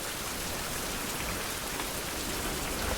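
Steady rain pouring in a survival video game, a dense even hiss of drops on surfaces, constant and close throughout with no voices.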